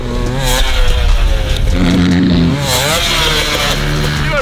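A dirt bike engine revs loudly and close on a dirt track, a continuous raspy roar with rising and falling pitch as the throttle opens and eases.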